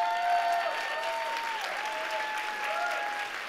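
An audience at an anniversary gala claps in a sustained round of applause, a dense, even patter of many hands with a faint tonal ring from the hall running underneath.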